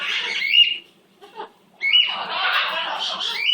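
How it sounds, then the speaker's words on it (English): A pet bird squawks in loud, harsh bursts near the listener, a long cry, a short pause with a brief call, then another sustained stretch of squawking. "That's my baby bird."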